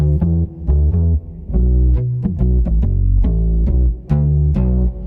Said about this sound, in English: that's a nice saturated bass tone